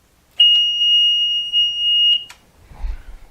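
Loud piercing electronic alarm tone from the test button of a capacitor discharger for electrolytic capacitors, a single steady high-pitched beep lasting under two seconds, followed by brief low handling noise.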